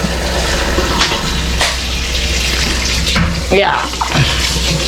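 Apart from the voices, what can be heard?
running water for drinking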